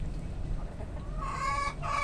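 Chickens clucking nearby, a few short throaty calls rising over a low background murmur.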